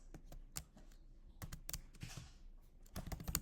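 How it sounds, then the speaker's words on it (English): Keys on a computer keyboard clatter in scattered quick bursts of taps, close and fairly quiet, with short pauses between runs and no talking. "we're going to go to ChatGPT and we're going to type in analyze"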